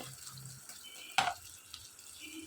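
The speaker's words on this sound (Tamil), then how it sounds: "இந்த தக்காளி அரைச்சோம் இல்லையா விழுது அதை எடுத்து இதில் ஊற்றிடலாம்" Ground tomato paste is poured into a pan for a paneer gravy, making one short wet splat midway through, alone against a quiet background hiss.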